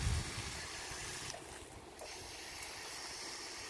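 A garden hose sprayer on its soak setting drenches a peach tree, giving a steady, close rushing hiss of water that runs unbroken throughout.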